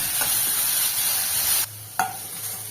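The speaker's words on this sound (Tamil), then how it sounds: "இப்போ இது கூட ரெண்டு பெரிய வெங்காயத்தை நல்லா சாப் பண்ணி வச்சுருக்கேன் அதை கூட சேர்த்துக்கலாம் இதை நல்லா வதக்கி விட்டுக்கலாம்" Two large chopped onions sauté in hot oil in a pan, with a strong, steady sizzle and stirring scrapes that cut off abruptly partway through, followed by a brief clatter and a fainter hiss.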